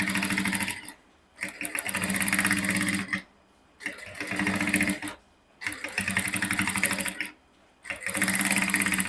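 A sewing machine stitches a channel for a plastic boning strip on a transparent corset. It runs in four steady, loud, close bursts, each a second or two long, with clean pauses in between.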